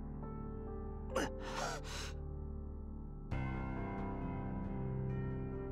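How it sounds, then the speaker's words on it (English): A sharp gasp rises over a steady musical score in a Fate/Stay Night visual novel scene, followed by a second breathy exhale, before the music swells into a fuller passage. "I let out a gasp."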